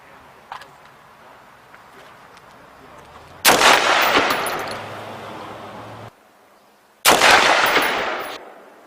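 A rifle fires 5.56 armor-piercing rounds into cabinetry from about 3 yards at a shooting range. Two loud, close bursts of rapid shots each trail off in a long decaying rumble, and faint clicks come before them.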